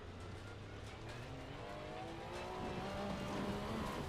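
Racing car engine in a racing video game, a steady droning whine with shifting pitch and revs, rising slightly in loudness toward the end, with no talk over it.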